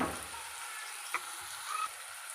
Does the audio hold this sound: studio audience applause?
no